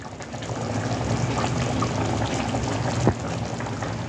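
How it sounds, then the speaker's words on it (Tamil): A pot of Tamil-style seela fish curry simmers with a steady, dense bubbling and hissing, continuous throughout, with one small knock near the end. "இது நல்லா குழம்பு கொதிக்குது"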